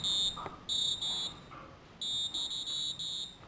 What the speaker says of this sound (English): Well, we can switch off the alarm.